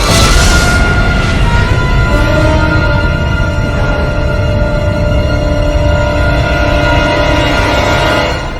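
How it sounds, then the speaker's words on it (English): Supernova star explosion effect: a loud sustained roaring rumble opening with a bright burst, then a dense, droning wash with low tonal layers that holds steady and fades slightly at the end. "the star becomes unstable until it explodes violently, a supernova."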